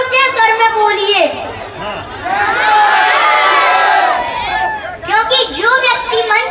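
A school assembly crowd of children at a Republic Day event shouts back in unison, a loud sustained chorus of many voices between a woman's amplified speech.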